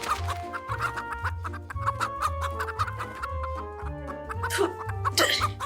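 Farm chickens cluck nearby in a repeated, uneven rhythm of short clucks and murmuring calls, with a brief flutter of movement near the end and no talking.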